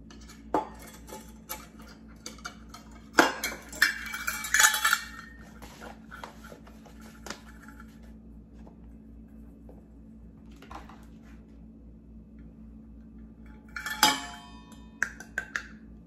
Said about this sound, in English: Mix my powders up good together.